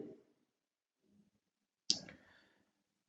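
A sharp mouse click rings out once, close and crisp, set between brief quiet stretches and faint low shuffling from a computer desk while nodes are being configured on a load balancer.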